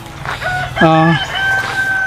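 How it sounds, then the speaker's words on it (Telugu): A rooster crows once, loud and close, amid soft chicken clucking in a poultry shed. "ఇది కోళ్ళ షెడ్ ఇది ఇది ఎన్ని కోళ్ళు ఉంటాయి ఇక్కడ"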